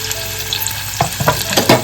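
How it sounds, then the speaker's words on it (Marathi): Onion frying in hot oil in a pot for a tempering, steady sizzle with a few louder bursts of stirring toward the end, close up. "व्यवस्थित कांदा परतावून घेतोय"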